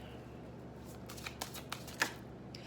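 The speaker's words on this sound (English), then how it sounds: "Let's get some other cards out." A deck of tarot cards riffled and shuffled close by, a few quick papery flutters and soft slaps over quiet room hum, with no talking.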